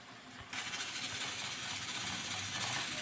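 A mixer grinds onion, garlic and tamarind into sambar masala, a steady loud whirring hiss that starts abruptly and runs on evenly.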